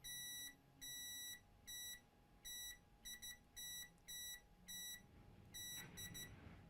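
A multimeter set to continuity mode beeps over shorted pads on a Focusrite Scarlett audio interface board, sounding a series of sharp, loud electronic tones in uneven bursts, some long and some clipped short, over a low steady hum.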